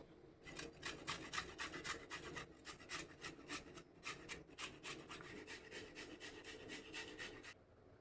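A washed carrot is grated by hand in a kitchen, a steady run of rhythmic rasping strokes, about two or three per second, close and clear with no talk.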